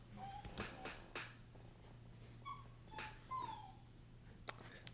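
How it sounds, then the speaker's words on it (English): A dog gives several short, high whimpering yips, moderately close but fairly quiet, over a steady low electrical hum in an otherwise quiet room. "If you hear my dog, sorry about that."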